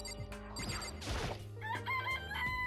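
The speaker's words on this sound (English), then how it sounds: "It's a chicken. It's really alive," In the Danganronpa video game, a chicken gives several squawking clucks and a crowing call, fairly close and loud over game sounds and music, with a crash-like burst in the middle and no talking.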